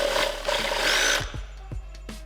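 A power drill enlarging a hole in a Porsche 924 part whirs loudly for about a second, then stops, followed by a few light clicks and taps.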